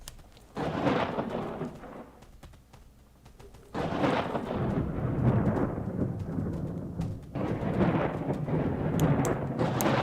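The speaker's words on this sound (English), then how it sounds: "so the evil mages definitely strike lightning" Thunder rolls heavily and continuously in the video game Worldbox as evil mages call down lightning strikes, with three swelling waves of deep rumble and no talk.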